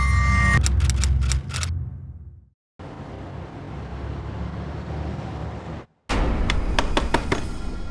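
Knocking on a door in a Hindi crime drama: two bursts of sharp, rapid raps, one at the start and one near the end, with a steady noisy background in between and no talk.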